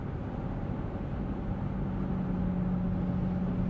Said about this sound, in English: there's a good amount of wind noise, a lot of engine noise as well, and some road noise